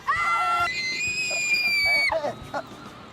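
A woman lets out a long, shrill, loud scream at close range in a street scene of an Indonesian TV drama, followed by brief talk.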